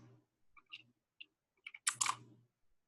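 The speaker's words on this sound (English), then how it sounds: "we'll go ahead and type in the address" Quiet, scattered keystrokes on a computer keyboard as an address is typed, a few soft taps followed by a quick cluster of clicks, close and otherwise silent.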